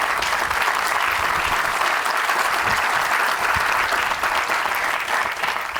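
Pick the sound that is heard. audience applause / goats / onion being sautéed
audience applause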